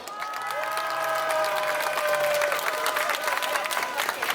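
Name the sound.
audience applause at a rally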